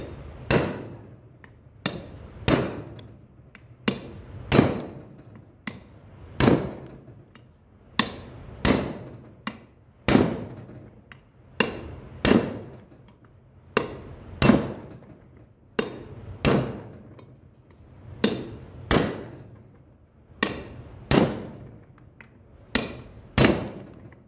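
Sharp metallic hammer strikes drive front wheel bearing hub parts home on a 1997 Chevy 4x4, landing as steady, close, loud blows with short pauses. The rhythm repeats for the whole stretch with no talking.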